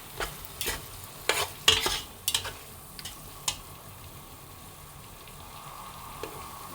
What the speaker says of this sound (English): let's pan fry it first